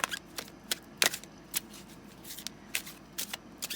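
Tarot cards are shuffled up close in a series of quick, irregular riffling flutters and snaps, with no talking.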